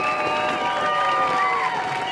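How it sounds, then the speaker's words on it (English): Audience applause and cheering for a dance group at the DanceRites 2023 finals, a steady crowd roar that holds through the whole moment with some tonal calls rising above it. "Keep those applause going for Junawi."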